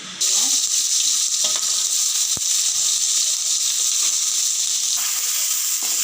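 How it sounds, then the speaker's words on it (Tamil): Cumin seeds sizzle in hot oil for a vegetable bonda, a steady bright hiss that starts abruptly and holds evenly throughout, close and fairly loud. "எண்ணெய் காஞ்சிட்ருக்கு காஞ்சிருச்சு கொஞ்சமாக சீரகம் போடுவோம் போட்டாச்சு"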